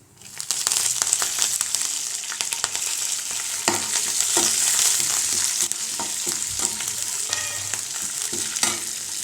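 Green chilies and curry leaves fry in oil for idli upma, giving a dense, close sizzle with repeated sharp crackles and stirring scrapes throughout.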